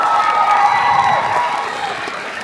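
Crowd applause and cheering at a high school graduation ceremony, loud and broad at first, then gradually fading, with shouts mixed into the clapping.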